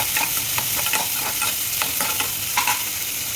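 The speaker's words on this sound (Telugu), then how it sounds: "సగం స్పూన్ ఆవాలు, ఆనియన్ పచ్చిమిర్చి వేసుకొని బాగా కలుపుకోవాలి." Onion and green chili stirred with mustard seeds and cumin in a hot pan, a loud continuous sizzle with a spatula scraping and tapping repeatedly, close up.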